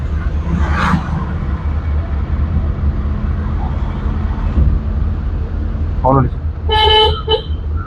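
Traffic rumble and engine noise run throughout during a driving lesson in Alappuzha, with a short bright car horn toot near the end, loud against the steady road noise.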